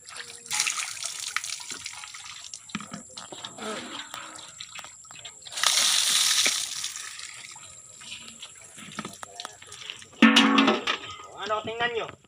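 Water splashes and drips as someone rinses off after bathing, intermittent close splashes and pouring bursts mixed with voices talking throughout.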